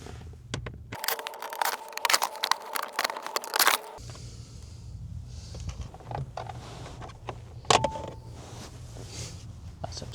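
Three T20 screws come out from under the dashboard of a MINI: close, irregular clicks, scrapes and rattles of the screwdriver and plastic trim, with bursts of handling noise followed by quieter fumbling and a sharp click near the end.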